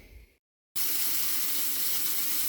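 A sink tap suddenly opened after a short silence, pouring a steady, loud, even rush of water that continues without pause.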